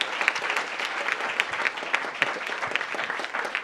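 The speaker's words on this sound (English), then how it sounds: "round of applause for our final panel" A short burst of moderate applause from a conference audience for a final panel on labor organizing, steady clapping with a few sharper claps poking through, heard briefly and at middle distance.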